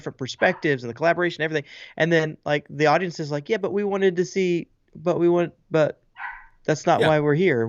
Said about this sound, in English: Sorry for my dog yipping in the background.